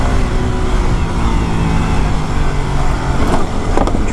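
A Yamaha WR250R supermoto motorcycle engine drones loudly and steadily while riding up a winding road, the close, rough engine note mixed with heavy wind rush throughout.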